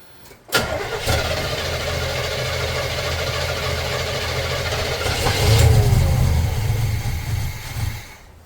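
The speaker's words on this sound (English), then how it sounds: "I'm just gonna start it. If it'll start, I don't know." An Avanti car cranks and fires up, then runs loud and close at a rough idle, rising briefly in a rev before settling and dropping off.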